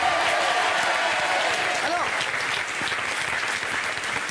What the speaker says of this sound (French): Je voudrais qu'on applaudisse Camille Combal